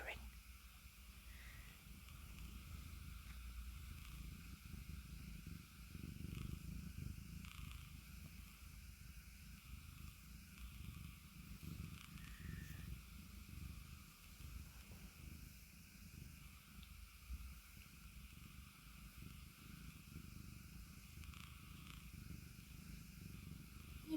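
Nina the cat purrs softly and steadily up close, a low continuous rumble that rises and falls with her breathing, faint against a quiet room.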